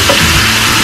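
Garlic and onions sizzle in a hot pan as they are stirred, a short, loud, dense crackle up close with no voices.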